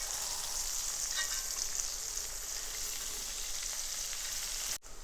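Pieces of fish, cut large, frying in hot oil in a pan for fish pickle after being turned over, a steady close sizzle throughout with a brief break near the end.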